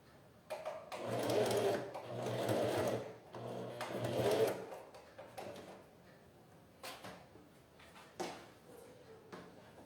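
A sewing machine stitches through layers of fabric for a fabric jewelry holder, running in steady loud bursts of about a second or more, then stopping for quieter handling clicks and fabric shuffling.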